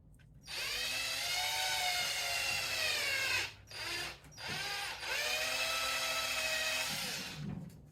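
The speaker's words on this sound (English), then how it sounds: "So they give you the drill bit so that you could drill through the A-arm here." A power drill with a drill bit bores through a plastic A-arm of a Traxxas Sledge RC car, giving a steady high whine that breaks off briefly twice and then resumes, close and alone without talk.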